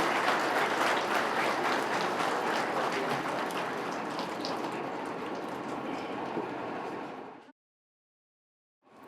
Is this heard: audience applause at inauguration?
yes